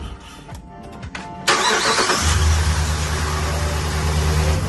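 A car engine cranks and fires up using only a Lokithor J401 jump starter pack, with the vehicle battery disconnected; after brief clicks and cranking it catches and settles into a steady, loud close idle.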